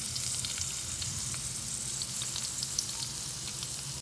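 Garlic and onion fry in hot oil for squid adobo, a steady, dense crackling sizzle that runs without a break throughout, close and evenly loud with no voices.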